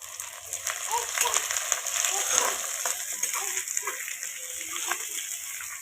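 Broad beans and onion fry in a pan with a steady, bright sizzle throughout, and a voice speaks faintly over it.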